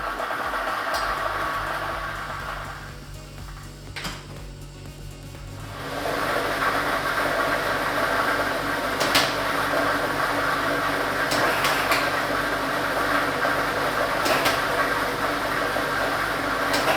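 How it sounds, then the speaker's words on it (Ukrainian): A lottery ball drawing machine with ball set number 2 whirs steadily as the balls tumble, a continuous mechanical roar with intermittent clacks of balls knocking together, starting after a short quieter stretch. "І ми вмикаємо лототрон"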